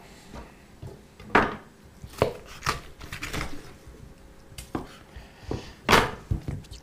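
Knife work on chicken meat being cut and taken off the bone for a terrine: irregular close knocks and scrapes on a cutting board with a few sharper taps, no talk.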